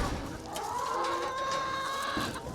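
Farmyard chickens cluck and call in a steady chorus of hens, moderately close, with no talking over them.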